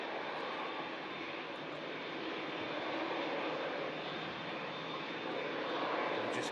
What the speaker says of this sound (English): Got a Norwegian, the red nose aircraft on approach.